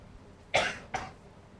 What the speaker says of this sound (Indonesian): ini baru pulang umroh kemarin, jadi batuknya batuk Mekah gitu ya